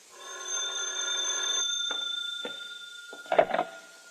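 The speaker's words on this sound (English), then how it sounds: "that's when the phone rang" An old telephone rings in an old-time radio detective drama, giving a couple of brief rings at moderate level over a fading musical sting, with no voices.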